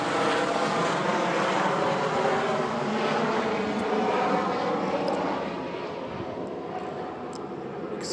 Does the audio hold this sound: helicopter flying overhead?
yes